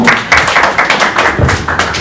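Audience applause at a Werrason event announcing his 2021 Zénith production: a steady burst of claps from a crowd, loud and close, running for about two seconds without speech.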